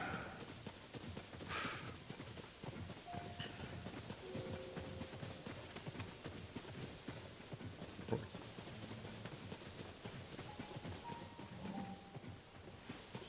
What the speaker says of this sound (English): I love seeing just wild horses.